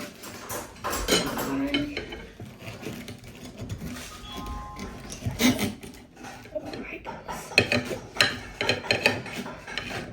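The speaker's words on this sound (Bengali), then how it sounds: "তুমি প্লেটের উপরে কুচি কুচি করছো" Cutlery scrapes and clinks against a plate as food is chopped into small pieces, busy metallic scratching and tapping running throughout at close range.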